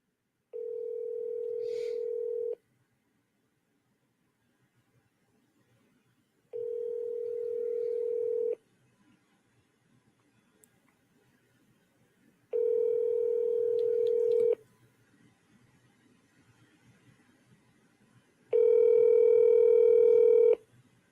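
A telephone call rings out in four long, loud electronic ring tones, each about two seconds long, separated by roughly four seconds of near silence, with faint background hiss.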